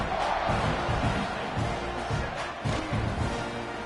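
Stadium crowd roars steadily in a football video game during a kickoff after a scoring drive, a dense, loud wash of cheering throughout with thumping low pulses beneath.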